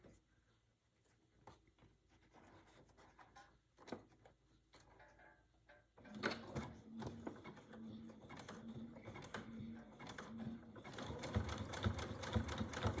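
A sewing machine stitches a zigzag along quilt binding, sewing on the opposite side. It begins quietly and then runs loud and steady with a dense mechanical patter from about six seconds on, with no talking.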